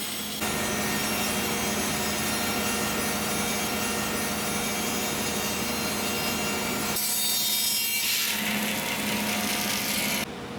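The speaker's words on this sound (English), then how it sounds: "I like to take off each slab as I cut." A sawmill blade rips steadily through a Scottish oak log to cut slabs, a loud continuous grinding, rasping drone that holds for about ten seconds with a slight shift in tone partway through.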